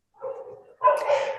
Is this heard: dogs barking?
yes